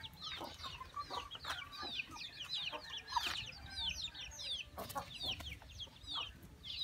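Newly hatched chicks peep in quick high chirps over a hen's low clucking, a busy near chorus with no talk, in a scruffy outdoor coop.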